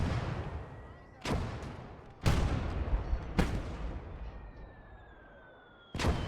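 Mortar and gunfire from a WWII real-time strategy game boom in four sharp, heavy blasts spaced a second or so apart, each trailing into a rumbling, crackling wash of distant battle noise.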